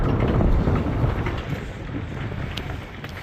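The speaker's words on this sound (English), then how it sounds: "Quite windy out here though." Steady wind buffeting the microphone outdoors at the end of a pier by a lighthouse in Chicago, a low rumbling roar that swells and eases slightly, with no voices.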